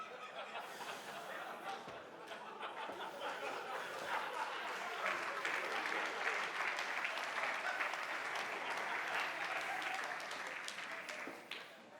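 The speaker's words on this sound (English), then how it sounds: "I guess this applause goes to Roger van der Weyden that made the painting." An audience at a tech conference talk applauds a projected painting by Rogier van der Weyden, a steady, fairly faint wash of many hands clapping in a hall with a few chuckles mixed in.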